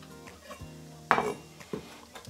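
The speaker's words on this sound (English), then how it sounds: "In the meanwhile, I'll be chopping a little rosemary, which is from my garden," A knife chops fresh garden rosemary on a board in a home kitchen, giving a few sparse, quiet taps and one sharper knock against soft background clatter.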